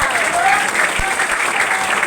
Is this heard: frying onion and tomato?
no